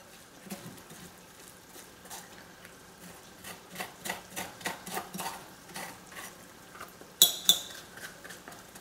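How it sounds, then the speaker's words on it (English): Soft wet scraping of noodle-like flesh being drawn away from its outer skin, a run of short rhythmic strokes, close and fairly quiet, ending in a couple of sharper scrapes. "We're just scraping it away from the skin, the outer skin."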